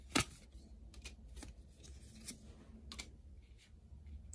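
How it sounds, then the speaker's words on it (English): Tarot cards drawn from a deck and shuffled: soft, faint papery flicks and snaps scattered over a quiet background, with one sharper card snap near the start. "Let's get a couple more cards to clarify."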